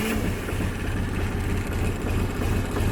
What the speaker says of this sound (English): running the tractor,